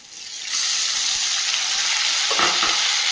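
Onion paste lands in hot oil in a pan and breaks into an abrupt, loud, steady sizzle that holds evenly, with a few soft stirring knocks toward the end.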